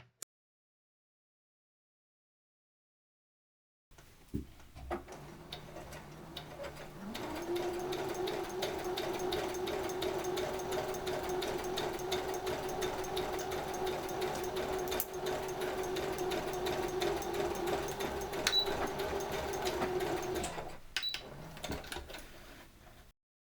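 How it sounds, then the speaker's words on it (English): A sewing machine runs steadily for several seconds stitching down fabric pleats, a continuous mechanical whir with rapid needle clatter, preceded by a few small handling clicks. "I'm going to go ahead and stitch those down with the sewing machine."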